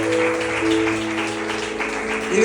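Church congregation applauding steadily in a sanctuary during a worship service, a dense continuous clatter of many hands with sustained musical tones underneath, swelling slightly near the end.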